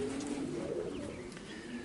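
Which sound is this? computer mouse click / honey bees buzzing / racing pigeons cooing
racing pigeons cooing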